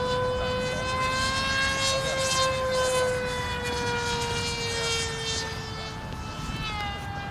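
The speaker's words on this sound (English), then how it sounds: "what I like about this plane is how slow you can get it" Supernova RC model airplane flying slowly at a club field, its motor giving a steady, loud whining drone with a gently falling pitch throughout, no talking.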